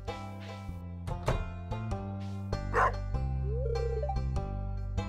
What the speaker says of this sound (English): there's a dog in the dog bin now.